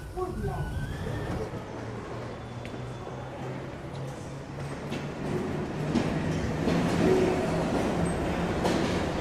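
A London Underground C Stock train braking to a stop at a station in a Roblox game, with a steady low rumble of running gear and brake noise swelling toward the end while a voice talks over it.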